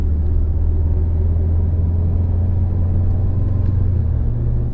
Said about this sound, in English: just listen to the tire noise